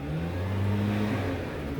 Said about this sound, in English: the blower guy's kind of right by the vehicle